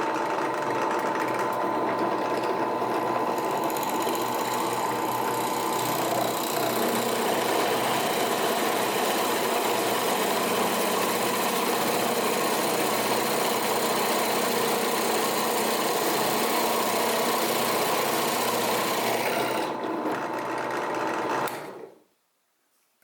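A Central Machinery 10-inch, 12-speed benchtop drill press runs at a faster belt speed after a belt change, giving a steady, even mechanical whir and hum that holds for about twenty seconds before cutting off abruptly.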